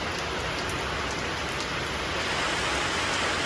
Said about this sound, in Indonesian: saat ini cuaca lagi hujan ya teman-teman semua